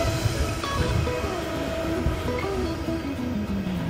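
A train rumbling past nearby with a steady low roar and drawn-out metallic squealing tones sliding downward.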